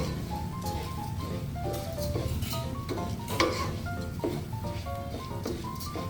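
Shiitake risotto stirred in a pan, soft scraping and rustling strokes repeating at an even pace under a quiet sizzle, close up with faint background tones.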